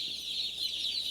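Day-old broiler chicks cheep in a dense, continuous, high-pitched chorus, steady and close, with no voices over it.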